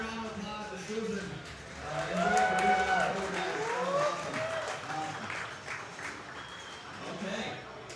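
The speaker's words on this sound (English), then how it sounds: "let's give a big round of applause to Susan." An audience at a pinball tournament applauds a player, a moderate wash of clapping that swells and then fades, with voices talking over and around it.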